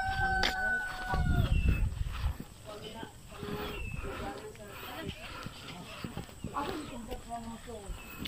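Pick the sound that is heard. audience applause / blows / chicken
chicken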